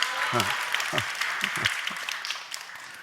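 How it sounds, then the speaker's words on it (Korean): A church congregation applauds during a sermon, clapping spread across the room, fairly faint beneath someone speaking over it. "박수."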